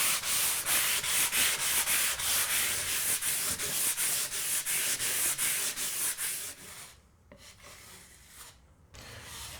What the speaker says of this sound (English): I'm going to sand back the excess before applying a second coat of plaster